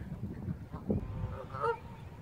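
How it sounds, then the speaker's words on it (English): Geese honk several times nearby, harsh nasal calls overlapping one another against a low outdoor background. "he's on the bridge feeding our swan family and all the geese."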